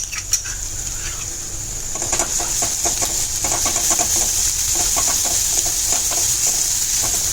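Malvani masala frying in oil for paya soup makes a steady, close sizzle, with light stirring clicks and scrapes throughout.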